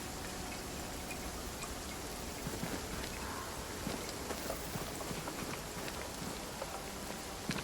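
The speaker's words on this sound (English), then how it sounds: "it's a frozen swamp and yet it's raining out" Steady rain falls in a frozen swamp in the video game Banishers: Ghosts of New Eden, a constant soft hiss with scattered faint drip ticks throughout and no voices.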